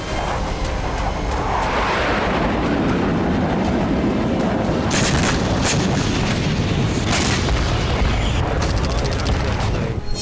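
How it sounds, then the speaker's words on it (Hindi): A loud, continuous roaring rumble of a bomb dropped from a fighter jet exploding and its aftermath, with sharp bursts and crackles breaking through near the end. "लड़ाकू विमानों से ही बम को ड्रॉप किया गया, जिसके बाद यह धमाका हुआ।"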